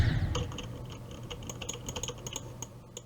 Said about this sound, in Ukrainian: Я на, на, на клавіатуру нажимаю, я просто ничего не пишу.